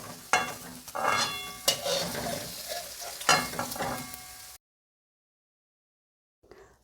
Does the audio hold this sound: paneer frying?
yes